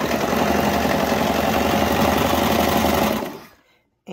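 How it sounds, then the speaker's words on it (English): A serger sewing elastic runs in a continuous fast whirring stitch, loud and steady for about three seconds before winding down to a stop. "my serger does indeed dislike the elastic"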